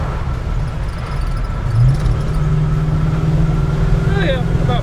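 A 1971 Oldsmobile Cutlass 442 W-30 V8 droning steadily at about 4,500 RPM while cruising at highway speed, a loud low engine hum heard from inside the car with road noise and a slight rise in pitch partway through.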